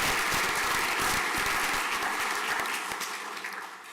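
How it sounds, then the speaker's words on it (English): School prizegiving audience applause, a dense burst of clapping from a large hall that stays steady before thinning and fading toward the end. "If we could have a round of applause,"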